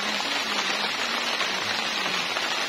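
Rain falls steadily on a tent pitched in a garden, a dense continuous hiss of drops drumming on the fabric, loud and close with no let-up.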